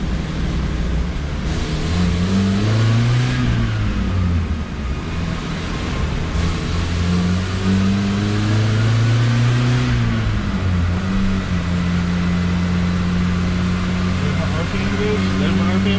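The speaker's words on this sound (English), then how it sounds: "we're going to do a 3rd gear pull" A 1986 Plymouth Voyager's 2.2-liter engine revs hard through a third-gear dyno pull, its steady drone rising and falling in pitch, loud and close throughout.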